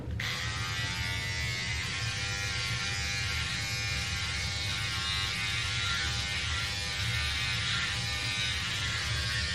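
An electric shaver buzzes steadily and loudly while shaving arms, a constant close-up hum with no pauses.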